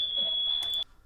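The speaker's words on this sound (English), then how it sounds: "So now the alarm's gone off, right?" A home security alarm keypad sounds a steady high-pitched electronic beep, fairly quiet and heard alone, lasting under a second before stopping.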